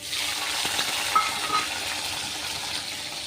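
Chopped tomatoes hit hot oil spiced with five-spice seeds and fry with a steady close sizzle and hiss, marked by a few brief stirring clicks.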